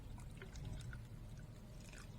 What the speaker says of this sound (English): We need to pour the water here.